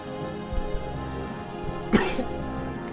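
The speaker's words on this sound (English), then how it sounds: "Sorry, could not suppress that cough." A single sharp human cough bursts out close to the microphone during a live game stream, standing out against a quiet low background hum.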